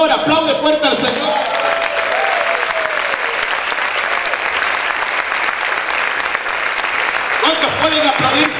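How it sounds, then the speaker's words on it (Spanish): A church congregation applauds loudly in a dense, continuous wash of clapping that fills the room, with a voice faintly over it at the start and end. "Aplaude fuerte al Señor."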